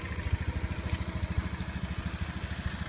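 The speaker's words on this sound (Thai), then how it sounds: "นี่สตาร์ทติดนะครับ" A Honda Zoomer scooter-style motorcycle with an anti-theft alarm fitted idles steadily just after starting, its engine giving a close, even low putter with a rapid rhythmic beat throughout, no talking over it.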